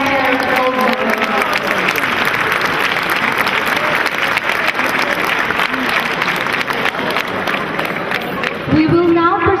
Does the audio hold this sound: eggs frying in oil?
no